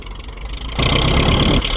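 A Ferguson TED20 tractor with a backhoe fitted turns over and catches into a loud, rough, steady low idle, close by and with no voices.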